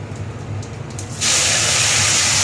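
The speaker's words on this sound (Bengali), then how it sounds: "এই যে জিরে ফোড়ন দিলাম, দিয়ে এবার পেঁপেটা ঢেলে দেবো" Cumin seeds hit hot oil for tempering, then papaya goes in and the pan bursts into a loud, steady sizzling hiss that holds close and strong to the end.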